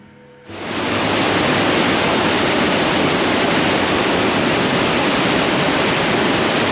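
A waterfall's rushing water swells in within the first half second and then roars on loud and continuous, a thick, steady wash of noise with no voices.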